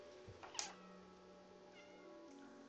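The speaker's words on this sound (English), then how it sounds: "Press B to meow." A cat in the video game Stray gives one short, fairly faint meow over a quiet ambient game backdrop with a low steady hum.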